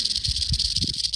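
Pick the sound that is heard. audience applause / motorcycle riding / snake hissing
snake hissing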